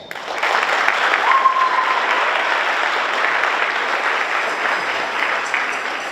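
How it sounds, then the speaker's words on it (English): A crowd at a high school JROTC military ball applauds continuously, a thick, even wash of clapping that starts abruptly and holds steady throughout. "So I would like to give them a round of applause."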